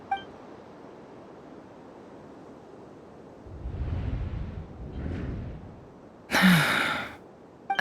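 A female character named Yehuda gasps once, a short breathy intake in a fantasy game scene, preceded by soft rumbling and a low whoosh, with a bright electronic burst following the gasp.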